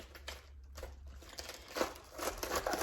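A knife cutting through a cabbage to quarter it, with crisp crunching and crackling leaves close by, soft at first and growing louder and denser toward the end.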